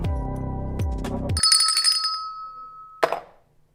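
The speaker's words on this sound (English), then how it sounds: "Your phone is ringing." Mobile phone ringtone: a few melodic chime notes over a low tonal burst, then a sustained single pitched tone and a final bright ping, loud and close in a live studio setting with no speech.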